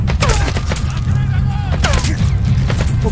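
Gunfire in Metal Gear Solid V: The Phantom Pain, with scattered shots and rattling bursts over a dense, loud game soundscape.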